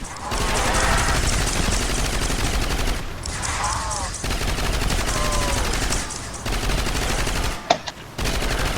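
Rapid bursts of gunfire from the zombies mode of a shooter game on a lighthouse map, continuous and loud across the clip, with a sharp louder shot near the end.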